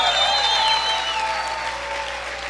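A church congregation applauds loudly at a sermon, a dense wash of clapping that tapers off slightly over a couple of seconds, with some voices mixed in.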